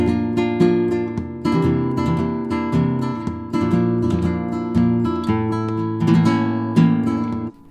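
An acoustic guitar strums chords in a driving flamenco tangos rhythm, with sharp rasgueado strokes and accented beats, close and loud with no voices.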